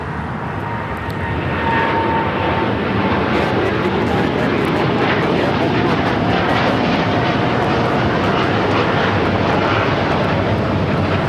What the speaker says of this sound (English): United Airlines Flight 801 taking off to Hong Kong on the 787-9 Dreamliner.